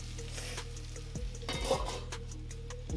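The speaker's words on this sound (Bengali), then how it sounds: "আলু ভাজছি।" Potatoes frying in a pan at home while breakfast is made, a steady low sizzle with occasional clinks of a utensil against the pan.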